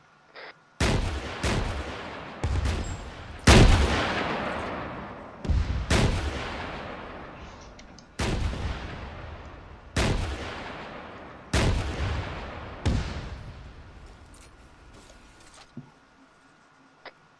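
RPG launches in a video game training session with Russian equipment, about eight loud booming shots spaced a second or two apart, each fading in a long rumbling tail, with no talk.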